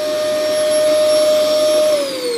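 A household vacuum cleaner drones loudly and steadily with a high whine while pulling air out of a storage bag packed with clothes; near the end the pitch sags as the bag tightens.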